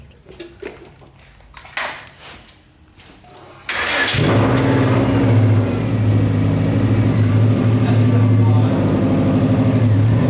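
A Subaru 2.5RS with a swapped WRX engine cranks briefly after some quiet handling noises, then fires up and settles into a loud, steady idle.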